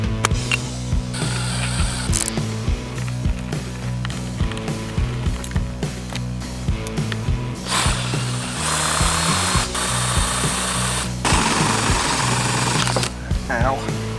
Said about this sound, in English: Now that I got the hole drilled,